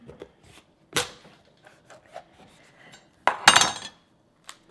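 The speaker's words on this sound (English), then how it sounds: "So let me just cut off the stem part and let's see. You do have to have a slightly sharp knife." A sharp knife cuts the stem off a delicata squash on a board with a few close crunching cuts and scrapes, one firm chop and then a louder grinding slice.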